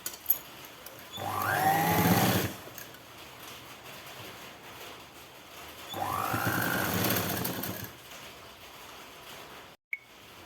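A sewing machine stitches a 42-inch blouse panel in two runs of about a second and two seconds, each a steady mechanical whir that starts and stops cleanly, separated by a quieter pause.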